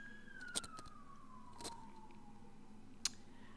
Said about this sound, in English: Sorry, there's sirens going on.